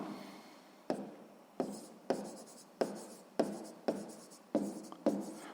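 A pen writing on paper during a sixth-grade maths exercise, a run of about eight quick scratchy strokes, each starting sharply and then trailing off, close and quiet with nothing else heard.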